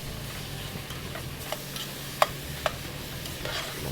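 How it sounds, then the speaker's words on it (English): Rice being stirred in a pan with vegetables: quiet scraping and light ticking clicks of a utensil over a soft steady sizzle, a couple of sharper taps standing out. "I'm going to stir that around."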